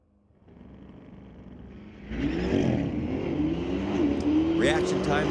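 Corvettes launching in a street-legal drag race at Mission Raceway Park: a quiet idle builds into loud, rising engine revs as the cars accelerate away, with a commentator's voice over the noise.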